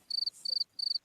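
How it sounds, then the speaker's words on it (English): A cricket chirps in three short, high-pitched trilled bursts with brief gaps between them, clean and alone with no voices. "Yes, that's a cricket sound."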